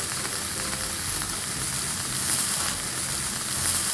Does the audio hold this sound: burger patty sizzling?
yes